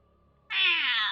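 A pet kitten gives one loud, close, drawn-out meow after a brief quiet moment.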